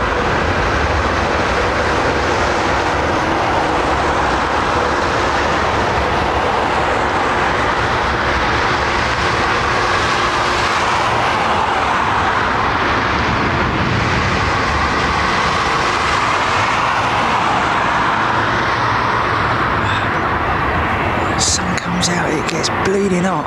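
A large aircraft landing on runway 27R at London Heathrow, aero braking with its nose wheel held up: a loud, sustained roar that swells and fades gradually, with people talking over it.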